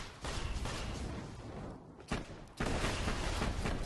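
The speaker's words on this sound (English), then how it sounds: "Ooh, explosions." Loud, dense bursts of booming explosions and gunfire in the video game Borderlands 2, two long blasts separated by a brief drop, close and continuous.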